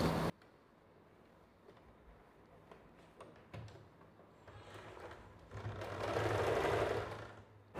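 A sewing machine stitching the side seams of a princess blouse, with a quiet clattering run that builds to a louder, steadier whirr near the end, alongside a few handling knocks.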